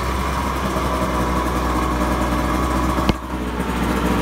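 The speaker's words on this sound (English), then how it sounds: "And I'll do one more warm start on it." A 1978 Mercury 20 two-stroke tiller outboard, long shaft, runs at a steady buzzing idle, loud and close, with one sharp click partway through and no voices.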